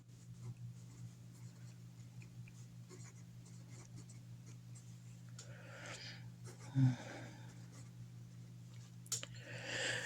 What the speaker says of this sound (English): So I'm going to write that.